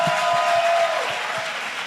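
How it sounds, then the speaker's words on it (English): Audience applause at a student meetup with animation professionals, a steady dense clapping with a faint tonal hum running beneath it. "Can we give him a round of applause for his contribution?"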